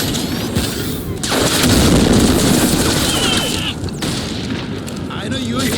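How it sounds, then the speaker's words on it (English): Grenade blast in Crysis Remastered inside a mining complex: a loud, sustained boom and rumble mixed with gunfire, with shouted voices over the chaos. "Grenade out!"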